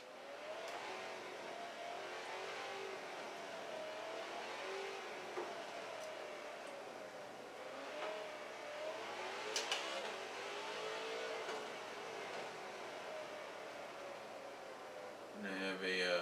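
A race car engine in the Forza Horizon 4 video game hums and revs in wavering pitch sweeps over a steady background, quiet and continuous, with a short louder burst at the end.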